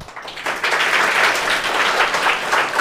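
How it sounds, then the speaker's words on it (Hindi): Loud applause erupts for prize winners at a coaching class prize distribution, building quickly after a brief quiet start into a dense, close crowd clapping that holds steady. "ज़ोरदार तालियां।"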